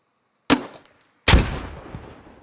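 Two sharp, loud blasts in the Squad video game: an M203 grenade launcher fires with a short thump, followed moments later by a heavier boom whose rumble slowly fades, no talk.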